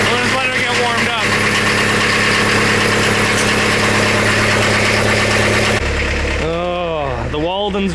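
An old 1980s truck engine idling as it warms up, a loud steady low rumble with a shift in tone near the end, while a voice talks over it.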